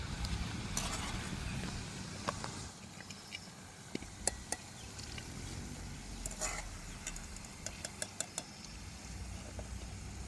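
Elephant foot yam pieces frying in oil in a pan, a steady low bubbling sizzle running throughout with occasional sharp pops and clicks, fairly faint with no voices.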